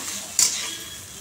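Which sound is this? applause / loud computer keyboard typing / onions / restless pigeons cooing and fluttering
onions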